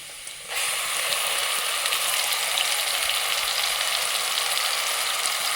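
Ground masala goes into softened onions in a pan for Tamil mutton gravy and bursts into a loud, steady hiss. The sizzle holds on evenly and close, with no talking over it.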